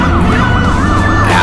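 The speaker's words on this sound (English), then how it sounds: "Ambulance?" An ambulance siren wails loud and near, its pitch sweeping up and down in rapid continuous cycles over a low vehicle rumble, with no talking.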